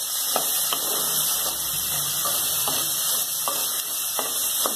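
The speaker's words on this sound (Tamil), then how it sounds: "இப்போ வந்து நம்ம வெங்காயம் வரமிளகாய் வதக்கலாங்க." Onion and dried red chilies frying in a pan, heard as a continuous hissing sizzle punctuated by regular utensil taps and stirs, close and without speech.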